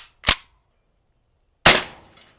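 A .22 caliber round fired at a 45-pound steel plate: two sharp, loud cracks about a second and a half apart, the second ringing out briefly with a faint trailing tap, heard alone.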